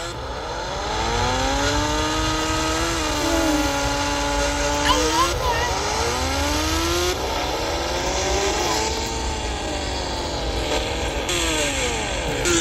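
A Hayabusa motorcycle engine in the Indian Bike Driving 3D game revs continuously, its pitch sweeping up and down in repeated waves over a steady synthetic drone, with a voice talking over parts of it.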